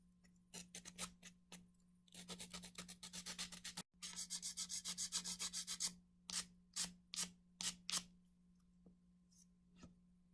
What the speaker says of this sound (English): now let's start the sanding.